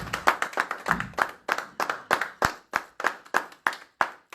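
A church congregation claps together in a steady, fairly fast rhythm, a dozen or more sharp, even beats in a row, close and loud in a reverberant hall.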